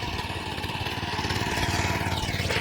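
A tractor engine chugs steadily on a farm in heavy rain, a close, loud, rhythmic mechanical rattle running continuously without pause.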